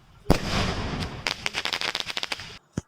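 A Diwali sky shot firework goes off with a sharp launch crack, a hissing rush, then a rapid string of loud crackling pops and a final separate bang, near and loud.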